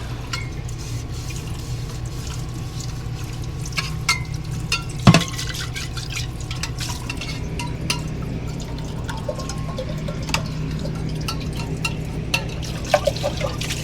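Running water splashes and trickles steadily while items are rinsed in an RV, with scattered clinks, taps and one sharp knock partway through.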